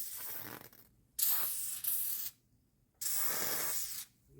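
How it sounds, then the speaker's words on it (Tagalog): Honey glue is sprayed onto a garage door belt in three loud, close bursts of hiss, each lasting about a second, separated by short quiet gaps. "Spray natin."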